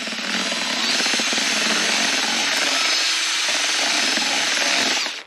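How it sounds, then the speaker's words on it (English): A can of paint being stirred with a power mixer, a loud, continuous close whirring drone lasting several seconds before cutting off abruptly. "I'm going to start by mixing up this paint."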